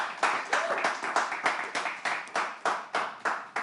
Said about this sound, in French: On applaudit Nazir, s'il vous plaît